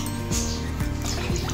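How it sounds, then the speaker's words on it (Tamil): Water pours into a cooking pot while making milk rice, with a steady liquid filling sound and a few short gurgles and splashes, close and moderately loud. "இன்னும் ஒரு டம்ளர் தண்ணி சேர்த்துக்கலாம்."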